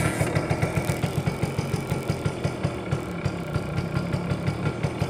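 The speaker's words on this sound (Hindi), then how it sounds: "ये इंडिया की सबसे पहली 2-stroke बाइक है। आइए आपको हम इसकी आवाज़ सुनाते हैं।" A 1986 Suzuki AX100 two-stroke motorcycle idling nearby, its single-cylinder engine putting out a fast, even, pulsing putter with a steady rhythm throughout and no talk.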